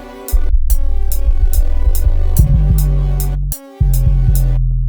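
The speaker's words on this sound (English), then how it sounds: "creates like a distortion effect" Loud electronic beat in the style of ESDEEKID, pushed through a limiter preset for a distorted sound: heavy booming bass hits with bright repeating high ticks, briefly dropping out twice before continuing.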